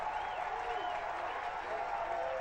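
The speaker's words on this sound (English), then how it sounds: "The Mater Dei crowd up and loud now" A high school football crowd at a Castle versus Evansville Mater Dei game roars and applauds steadily in the stands, a distant wash of cheering and whistles with voices mixed in.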